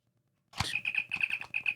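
A 2023 Playmates Star Trek Original Series toy communicator flipping open, a sharp plastic snap followed by a rapid, bright electronic chirping trill that warbles steadily close to the ear.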